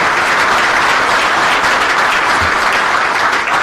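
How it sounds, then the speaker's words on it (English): A large audience at a sheriff's office quarterly awards ceremony claps loudly and continuously, a dense, even wash of applause that holds steady throughout with no voices over it. "Let's do one more round of applause for everybody who was promoted today"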